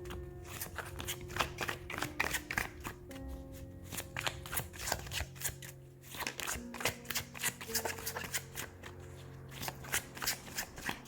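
Tarot cards are shuffled by hand up close in repeated quick riffling bursts, crisp and quiet, with small pauses between rounds of shuffling.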